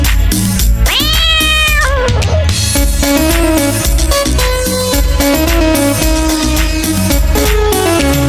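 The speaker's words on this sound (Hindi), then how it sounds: "मुझे बिल्ली ने जगाया, बोली म्याऊ म्याऊ म्याऊ।" A drawn-out, sliding cat meow rises over loud, busy music, followed by a second shorter cry, all within a lively song.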